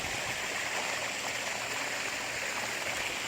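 Steady rushing and splashing of water recirculating through a 4000-gallon saltwater pond, spilling over the top overflow, a continuous broadband flow held close and even throughout with no pauses.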